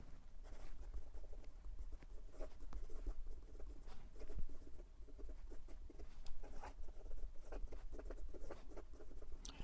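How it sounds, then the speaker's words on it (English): An Opus 88 Koloro Japanese eyedropper fountain pen scratches quickly across paper, giving a steady, close, fine scratchy patter of rapid strokes that continues for the whole stretch without any talking. "And for some quick writing."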